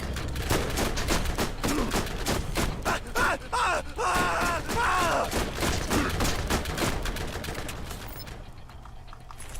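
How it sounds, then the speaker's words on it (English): Rapid repeated SMG gunfire in modded Minecraft, dense rhythmic shots through most of the stretch with other game noises and a groan-like sound mixed in, fading near the end. "World's slowest SMG."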